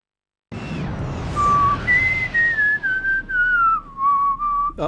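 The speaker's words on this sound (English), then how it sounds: "Sorry, just whistling." A person whistles a sustained, wavering melody with gliding pitch, loud and close, alone with no talking, over a faint low rumble from an air-combat video game.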